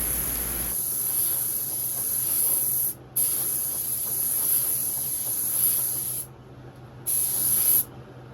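A spray gun lays a third coat of Tamco 9500 high-impact clear coat onto tumbler cups, a steady close airy hiss running for seconds with brief cut-offs where the trigger is released.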